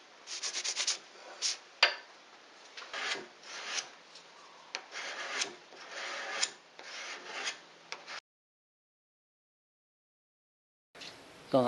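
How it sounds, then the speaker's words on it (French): Close, raspy scraping bursts as an exotic wood strip is sanded down to thickness on a stationary sander, irregular strokes for about eight seconds, then silence before a brief return. "je la ponce sur la ponceuse stationnaire, afin de la réduire à la bonne épaisseur"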